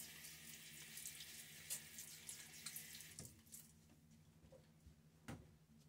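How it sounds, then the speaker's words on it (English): Tap water runs steadily into a bathroom sink during a wet shave with a Timeless stainless steel .68 open-comb safety razor, a continuous close hiss broken by a few splashes and small knocks. "Water now."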